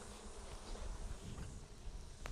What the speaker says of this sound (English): we're going to add a little bit of smoke to get the bees moving out of the way as we close the hive up